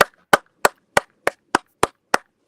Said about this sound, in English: Is that you clapping?